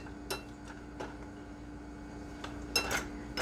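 A spoon stirs rice and vegetables in a pot, giving a few light, scattered clinks of metal against cookware at close range over a low steady background hum.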